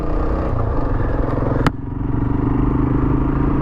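A Kawasaki KLR 650 single-cylinder motorcycle engine runs loud and close with a throbbing idle, a sharp mechanical clack partway through, then a steady pull away as it sets off.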